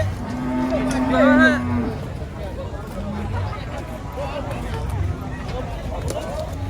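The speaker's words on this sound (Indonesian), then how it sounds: "Banyak sapi oleng guys di sini" Cattle being unloaded from a truck before a holiday give a loud, close moo within the first two seconds. Fainter lowing and a busy background of people talking follow.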